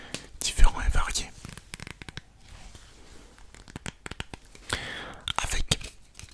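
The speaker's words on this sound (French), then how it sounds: "des sons de cartes différents et variés" Playing cards handled, crinkled and torn in close-up ASMR style, with sharp crisp bursts near the start and end and quieter rustles between, heard alongside soft whispering.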